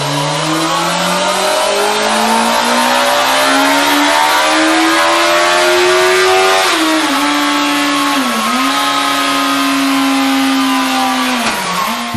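Yamaha R1 sport motorcycle engine revving loud and close, its pitch climbing steadily, then dipping and rising again with brief throttle blips, with no voices.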